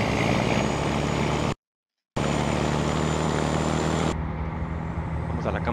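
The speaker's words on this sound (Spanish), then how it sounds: "Este freno de motor, amigos, escúchenlo." Heavy truck in American Truck Simulator with its engine brake engaged, a loud continuous low rumbling roar that cuts out briefly, returns, then softens near the end.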